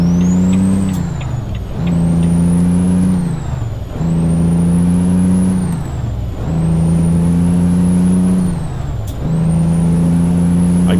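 A Volvo VNL670 truck engine in the American Truck Simulator video game revs loudly and steadily, climbing in pitch through repeated acceleration pulls with brief dips between gear changes.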